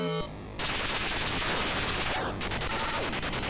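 Bursts of synthetic gunfire from the Atari 2600 game Snoopy and the Red Baron crackle in rapid succession, loud and dense, with a brief quieter gap near the start and no talking.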